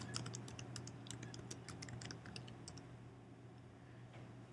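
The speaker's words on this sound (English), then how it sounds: "For example, you can type in metabolism" Light, quick keystrokes on a computer keyboard as a search term is typed, with soft clicking over a low steady hum. The typing thins out toward the end.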